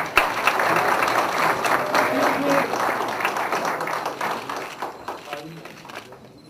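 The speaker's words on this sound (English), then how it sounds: "A big hand for them, please" An audience at an agricultural diversification event breaks into sustained applause, dense clapping that holds steady for several seconds before thinning and fading toward the end.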